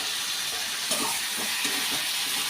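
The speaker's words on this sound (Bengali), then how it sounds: "এখন ঢেলে দিচ্ছি ভাজা আলুগুলো" Fried potatoes are tipped into a pot of country chicken with salt, producing a continuous close hissing sizzle with faint scraping and clatter.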